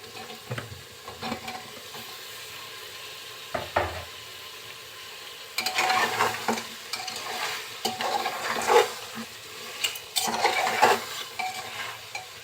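Beef and new potatoes being sautéed in a pan: steady sizzle with repeated spatula scrapes and clanks against the pan, growing busier and louder midway, close and without talk.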